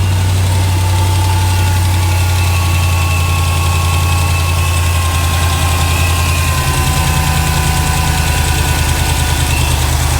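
A Hellcat V8 swapped into a RAM 1500 pickup idles loud and close, a steady deep rumble with a slightly shifting tone and no voices for the full ten seconds.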